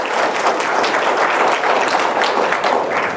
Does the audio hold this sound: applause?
yes